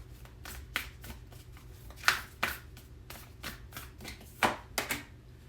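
Oracle cards being shuffled for a monthly tarot-style reading, a run of quick papery riffles and soft slaps with a few sharper snaps, close and fairly quiet, with no talking.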